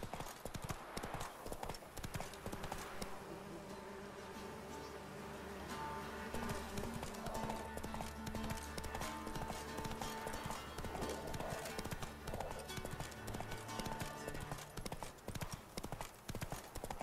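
A horse's hooves clip-clop in a steady, continuous rhythm while it is ridden in The Witcher 3, set against a busy background of game ambience.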